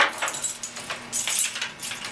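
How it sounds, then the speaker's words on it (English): Keys jingle in two bright metallic bursts as they are passed from one person to another, close and fairly loud, with no talking over them. "Hey, Trey, pass me Tanya your keys real quick."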